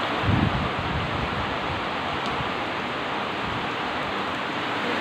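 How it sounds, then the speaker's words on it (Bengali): Heavy rain falling outside a window during a storm, a dense continuous hiss that stays steady throughout, heard from indoors with no speech. "তোমরা আওয়াজ শুনতে পাচ্ছ, বৃষ্টি হচ্ছে।"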